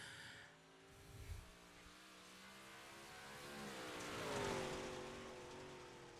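Number 32 modified dirt track race car passing, an engine roar building from a distance to a peak and fading away, fairly faint under a broad wash of track and crowd noise.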